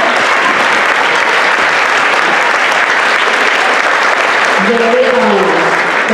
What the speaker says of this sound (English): So if you could please give a round of applause to those people.